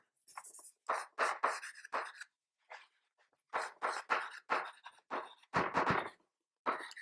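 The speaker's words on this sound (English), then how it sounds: "let me write it" Someone writes on a board in quick, scratchy strokes, arriving in short bursts separated by brief pauses, close and fairly clear with no talking.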